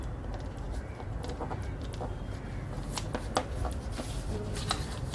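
Paper being creased and folded while making an origami bat plane, a steady close rustle with sharp crinkles and quick snaps scattered through it, fairly loud throughout.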